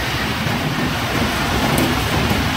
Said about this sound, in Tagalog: Ang lakas po ng ulan guys.